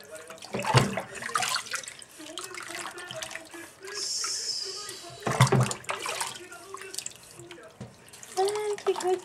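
A baby splashing in bathwater, with irregular close splashes and trickling water, mixed with someone talking and a child's vocal sounds throughout.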